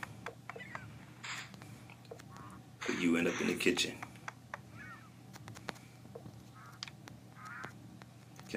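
A bird in the video game SurvivalCraft quacks and honks a few times at low volume, its calls scattered under someone talking over soft background game sounds.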